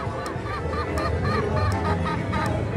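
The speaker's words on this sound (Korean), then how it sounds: "여기 길에 보면은 닭들이 좀 돌아다녀요" Chickens roam a hillside street in Comuna 13 of Medellín, Colombia, their steady clucking and honk-like calls repeating through a dense, busy outdoor background.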